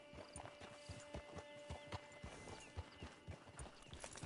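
Steady rhythmic clip-clop of horse hooves on hard ground in the video game Red Dead Redemption II, close and clear, with no talking.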